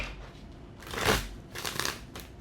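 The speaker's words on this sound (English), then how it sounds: "The card just flew out of the deck, okay? While shuffling" A deck of tarot cards is shuffled close by in a few rustling, riffling bursts of papery flutter, with quiet pauses between them.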